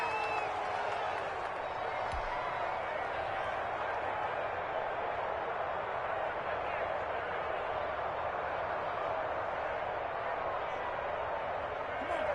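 A stadium crowd roars in a PS4 football video game during a Patriots game, a steady, dense wash of cheering that runs the whole time under a commentator's voice.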